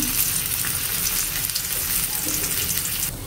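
Fish frying in hot oil, a loud, steady sizzle with dense crackling that runs continuously close by, easing slightly near the end.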